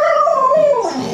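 A puppy howls and whines in a continuous, wavering high-pitched cry, close and loud, sliding downward in pitch near the end.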